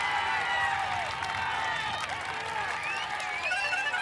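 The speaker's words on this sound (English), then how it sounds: "What a huge crowd it is." A huge roadside crowd at the 2005 Tour de France roars and cheers in a steady, dense wash of shouts, whistles and clapping, with a commentator's voice blended in.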